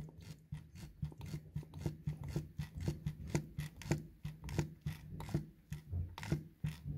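A hand priming bulb is pumped to fill the diesel fuel filter on a Citroën C4 Picasso 1.6 HDi, giving a quiet, close series of rhythmic squeezing and rubbing strokes, roughly two per second, with no talk.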